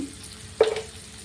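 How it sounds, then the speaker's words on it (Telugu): A brief sizzle bursts up as onions hit hot oil with salt and turmeric, a short hiss that quickly fades into a low simmering crackle. "ఆనియన్స్ని పచ్చివాసన పోయే వరకు బాగా వేయించుకోవాలి"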